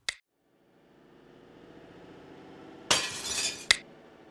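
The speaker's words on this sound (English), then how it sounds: "The glass shattered." A drinking glass on the edge of a table shatters in an old adventure drama: a faint tick, a rising hum, then a sudden loud crash of breaking glass followed by a sharp final clink.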